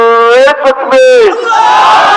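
At an Islamic sermon gathering, a single loud voice calls out and is answered by a crowd shouting the takbir response, a brief surge of massed voices.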